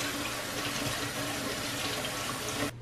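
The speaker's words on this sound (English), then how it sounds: "And I'm going to fill it with cool water." Cool tap water runs steadily into a cooking pot for spaghetti, a continuous loud gushing rush that cuts off abruptly at the end, with no talking.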